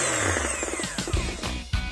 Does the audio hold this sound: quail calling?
no